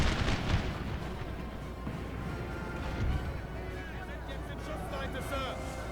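Cannon artillery in a Napoleon Total War battle, continuous booming and crackling gunfire at a loud, steady level, with someone talking over it.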